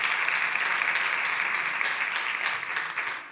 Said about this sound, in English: Let's give them another round of applause.